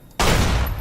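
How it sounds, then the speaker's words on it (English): A frag mine shot off in the video game Fallout: New Vegas, Old World Blues: silence broken by a sudden loud explosive burst that stays dense and crackling to the end. "I kind of want to see if I can shoot off a frag mine."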